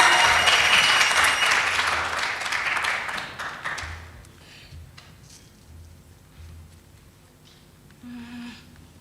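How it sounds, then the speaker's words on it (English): Conference audience at an entrepreneurship intervarsity regional round claps loudly for a participant coming on stage, the applause fading out after about four seconds into quieter room tone and a few scattered claps. "Please, big round of applause."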